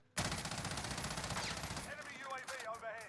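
FFAR assault rifle in Call of Duty Warzone firing one sustained fully automatic burst of rapid, loud, even shots, then a ringing tail with shell-casing clinks.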